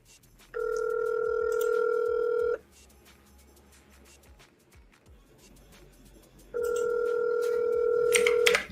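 A telephone call rings out: two long, identical ringback tones, each about two seconds, separated by a quiet gap with faint room noise, heard clearly through the line.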